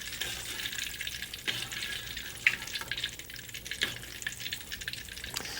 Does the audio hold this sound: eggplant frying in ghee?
yes